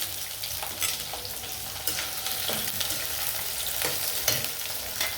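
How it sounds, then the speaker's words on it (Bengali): Steady sizzling of onions frying in refined white oil until lightly reddened, with occasional stirring scrapes; continuous and fairly close, no voices. "আমার পেঁয়াজটা ভাজা হোক।"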